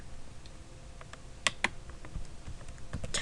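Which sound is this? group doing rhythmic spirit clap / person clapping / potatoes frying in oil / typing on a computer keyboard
typing on a computer keyboard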